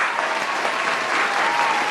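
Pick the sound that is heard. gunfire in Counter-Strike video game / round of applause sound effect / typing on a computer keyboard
round of applause sound effect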